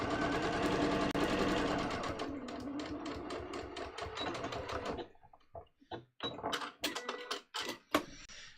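A sewing machine stitches along pants near the zipper teeth, first a loud continuous run, then short stop-start bursts of stitching, close by with no talking.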